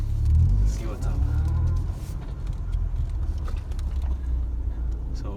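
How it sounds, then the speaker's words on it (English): A car fitted with an AEM EMS engine management system cruises through a residential neighborhood, its engine a steady low rumble with a brief rise early on, close and continuous, with a voice speaking over it. "Just a quick ride around the neighborhood."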